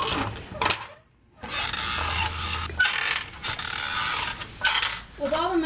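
A floor jack raising a 1987 Chevy S10 pickup during a flex plate swap: a creaking, grinding mechanical rasp in steady pumping strokes, close by, with short pauses between them.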